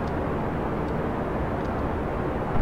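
A rocket engine roaring during ascent in Kerbal Space Program, a dense, steady broadband rush that holds loud and even from start to finish.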